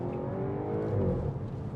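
A 2015 Audi S4 3.0 TFSI V6 with S Tronic and quattro revs up after a downshift, its engine note swelling with a steady, close, moderately loud roar and no talk over it.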